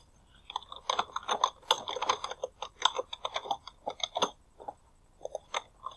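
Fast, close typing on a computer keyboard as a new password is entered, a dense run of crisp key clicks that thins out toward the end, with no voices.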